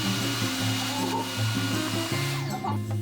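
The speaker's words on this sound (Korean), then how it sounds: "창틀도 청소합니다. 보통 물티슈로 했는데 이제 청소기로 하면 됩니다." An H7 vacuum cleaner drones steadily while cleaning window frames, its motor humming loud and close with shifting tones as the nozzle moves along the frame.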